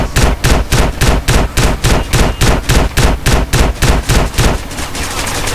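Micro SMG fire in GTA San Andreas: a loud, close stream of rapid shots in an even rhythm that keeps going for several seconds, then breaks into noisier, less regular sound at the end, with no speech.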